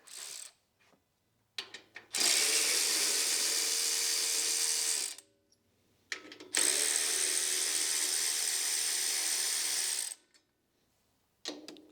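Fasteners on a vanity panel are tightened with a power tool, two long loud whirring runs of several seconds each, separated by short pauses with light clicks, close up and with no speech.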